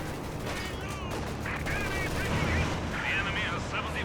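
Sniper fire in a competitive match rings out as sharp shot bursts over a game-world rumble, while an excited commentator's voice carries on over the top.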